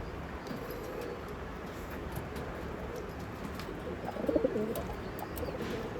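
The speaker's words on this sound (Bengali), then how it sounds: "পায়রার কোয়ালিটি দেখুন।" Pigeons at a loft, including Andhra and Malwai breeds, coo softly under steady background noise, with a brief clearer burst of cooing near the end.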